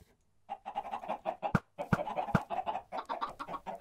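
Several Minecraft chickens cluck in a continuous busy chorus, near and fairly loud, with a few sharp clicks or pecks mixed in.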